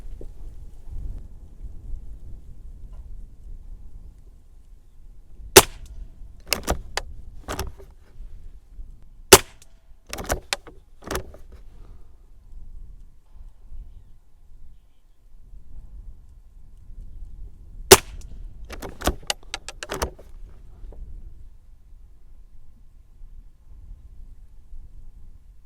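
Single shots from a Derya TM22 lever-action .22 rifle firing CCI ammunition at a 50-metre target, sharp cracks spaced a few seconds apart in two clusters, with quiet pauses between.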